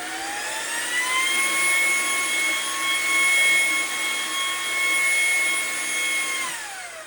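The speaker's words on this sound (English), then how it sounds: "So it is the Ryobi P726 stick vac." A Ryobi P726 cordless stick vacuum runs steadily at full power with a loud, high whining motor drone and a faint rise in pitch, close up and alone, then begins to wind down at the very end.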